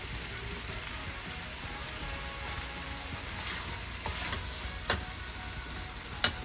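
Shrimp stir-fry on high heat for basil fried rice, a constant loud hiss of oil with occasional ticks and scrapes of the spatula toward the end, no voices.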